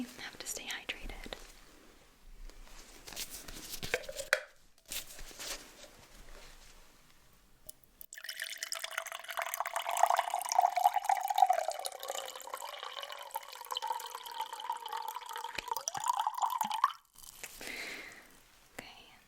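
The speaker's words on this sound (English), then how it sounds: "And I'll just pour you some water." Water poured into a glass during a quiet indoor doctor home-visit roleplay, a steady trickling pour in the middle stretch, set between soft whispering and small handling noises close to the microphone.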